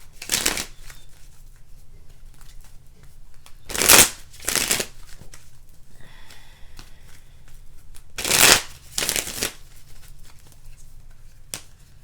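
Tarot cards are shuffled by hand in close, crisp riffling bursts, two pairs of quick flutters spaced several seconds apart with a final snap, over a quiet low background hum.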